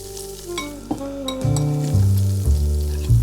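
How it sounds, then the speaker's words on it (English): Loud crackling sizzle of hot oil hitting chili flakes, bursting up sharply then settling into a steady bubbling fry, no talking. "pour the oil over our chili flakes where they're gonna just sizzle up and infuse further"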